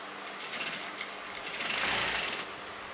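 Sewing machine stitching a kameez, a steady fast mechanical whirr running continuously for the whole stretch, swelling slightly louder near the end, close and alone with no talk.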